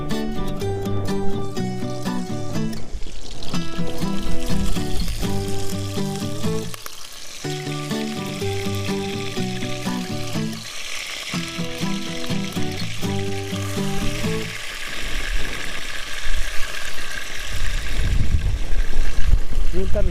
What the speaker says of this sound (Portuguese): vamos fritar ligeiramente o coelho